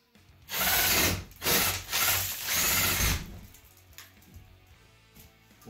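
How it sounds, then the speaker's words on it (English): A power drill whirs in a few loud bursts as it bores a hole into a wooden box, then winds down to quieter scraping and handling noises. "So let's drill a hole here."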